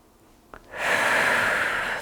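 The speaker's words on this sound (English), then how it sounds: "We're inhaling on the way down. Exhale up." A single long, forceful breath out during a pregnancy mobility exercise, starting after a quiet pause and a soft click, then holding as a close, steady airy rush until the clip ends.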